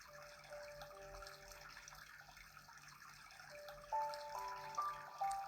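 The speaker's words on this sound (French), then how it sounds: "Vous fixez votre attention sur le débit de ce ruisseau." A small stream flows gently under a relaxation soundtrack, with soft continuous water murmur beneath sustained tones and a few brighter chime-like notes toward the end.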